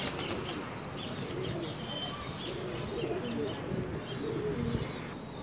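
A captured pigeon coos softly at close range amid steady rustling, with brief wing flaps and faint chirps in the background.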